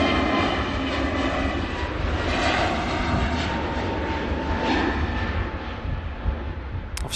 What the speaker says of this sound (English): Off she goes, the KLM A321 Neo.